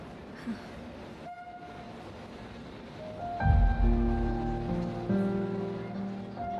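A train at a railway station, with low rumbling and rolling growing louder midway and sustained horn-like tones sounding over it, fairly close, without talk.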